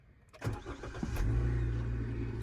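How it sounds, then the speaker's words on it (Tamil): A car engine cranks briefly, then catches and settles into a steady low idle, close by. "வண்டியை ஸ்டார்ட் பண்ண போகிறோம்"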